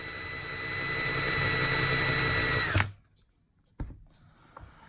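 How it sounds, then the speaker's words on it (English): A loud, high-pitched power drill whines steadily for about three seconds while drilling out a rivet on a die-cast toy car, then cuts off, leaving a couple of faint clicks and knocks. "drill off the mushroomed part of the rivet"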